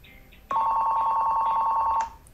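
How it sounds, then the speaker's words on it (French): A telephone rings for an incoming call to a call-centre agent, one continuous electronic ring lasting about a second and a half, loud and close, alone after faint background music. "après quelques secondes, l'appel va arriver sur le téléphone de l'agent"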